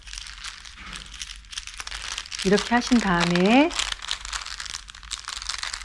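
Clear plastic wrap used in flower arranging crinkles and rustles in short bursts around a spoken instruction, with someone talking over part of the handling.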